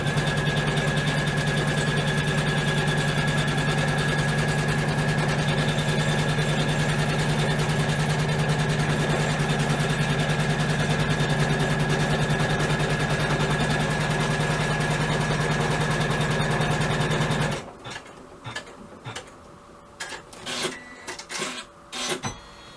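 A sewing machine stitches a fabric bag, running in one loud, steady, continuous drone for most of the time before stopping abruptly, followed by scattered light clicks and handling noises.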